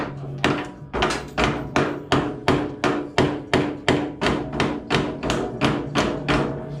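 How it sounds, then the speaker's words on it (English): A micro hammer gently tapping a car's coil spring and cross-member during reinstallation, about fifteen even, evenly spaced metallic knocks, close and fairly loud, with nothing else heard. "We're gonna grab the micro hammer here."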